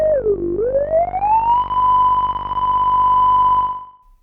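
A Moog synthesizer filter in self-oscillation gives a loud, pure sine-like whistle that dips, glides upward and then holds a steady pitch before cutting off.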